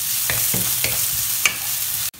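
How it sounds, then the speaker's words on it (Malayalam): Crushed shallots and red chillies sizzle in a pan for Kerala-style spinach thoran, a steady frying hiss broken by a few soft stirring scrapes, close up and without speech, cutting off abruptly near the end. "ഇതിലോട്ട് നമ്മൾ ചതച്ച് വെച്ചിരിക്കുന്ന ചുമന്നുള്ളിയും ചുമന്ന മുളകും കൂടെ ആഡ്"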